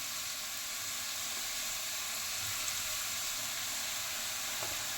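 Grated carrots fry in a pan for gajar halwa, producing an even, continuous close sizzle and hiss with faint stirring scrapes.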